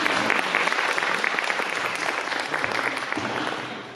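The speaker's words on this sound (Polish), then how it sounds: "Poprosimy o brawa." An audience at a panel event applauds, dense continuous clapping that holds steady and then fades slightly near the end, fairly close and without speech over it.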